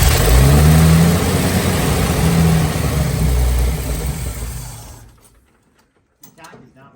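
The engine of a Squarebody Chevy K10 pickup cranks and then runs with a loud, rough mid-range rumble. The noise fades out after about five seconds, and someone speaks briefly.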